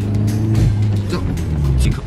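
A car engine revs hard from inside the cabin, with a low droning roar that swells and holds for about two seconds.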